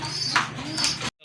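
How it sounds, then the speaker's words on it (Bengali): Two pigeons give a pair of soft cooing calls close by, heard over a steady low hum indoors, with the sound cutting off abruptly. "খুবই কিউট দুইটা কবুতর"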